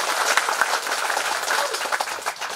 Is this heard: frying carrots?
no